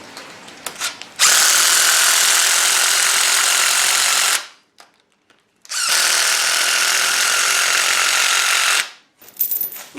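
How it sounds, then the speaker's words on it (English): A power drill bores a pilot hole into the end grain of a wooden mounting block for lag screws holding a 471 lb anvil. There are two long, loud, steady whining runs, each about three seconds, separated by a short pause. "We're basically drilling into end grain here"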